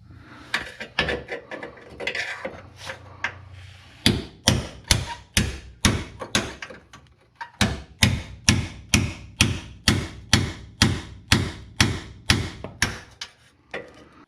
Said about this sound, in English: you've got to punch this up and break those three welds